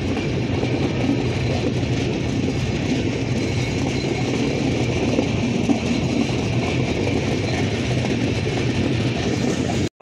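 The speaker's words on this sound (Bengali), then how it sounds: "রূপসা এক্সপ্রেস ট্রেনটি পার্বতীপুর রেলওয়ে জংশনে প্রবেশ করলো।" The Rupsha Express intercity train rolls into Parbatipur railway junction with a loud, continuous rumble of wagons and rhythmic wheel clatter, close by and steady throughout.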